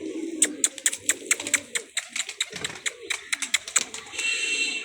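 A pigeon perched near scattered grain gives low cooing beneath a string of sharp, bright clicks and chirps, fairly close and moderately loud, with a steadier hiss toward the end.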